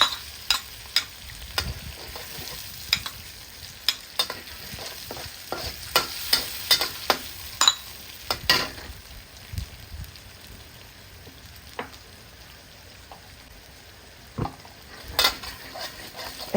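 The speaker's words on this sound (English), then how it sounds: "Cook the curry until the oil is released for a minute and keep stirring the curry paste." Homemade curry paste frying in oil in a pan for Malaysian chicken curry, with a steady crackling sizzle and irregular scrapes and taps of stirring throughout, fairly close and without talk.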